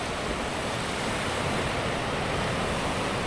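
Ocean waves break steadily on a rocky shore, a continuous loud wash of surf with no pauses and no voices.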